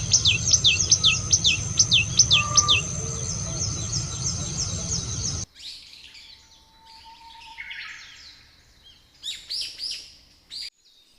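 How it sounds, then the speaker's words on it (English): Common tailorbird, a small olive-green South Asian resident with a rufous crown, giving a rapid series of sharp, high repeated chirps over a steady insect drone, followed by scattered fainter bird calls after a quiet break. "This small, delicate bird is the common tailor bird, a familiar resident of South Asia"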